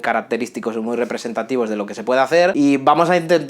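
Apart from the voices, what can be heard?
No everyday noise stands out behind the speech.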